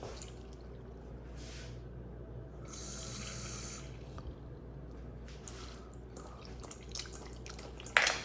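Water runs and trickles into a bowl at a low, steady level, with a brief louder splash near the end.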